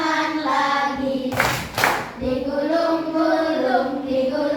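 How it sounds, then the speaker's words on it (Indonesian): Hands clap in a classroom sing-along, a sharp burst of a few claps in the middle between stretches of a voice singing a children's action song. "tepuk tangan lagi"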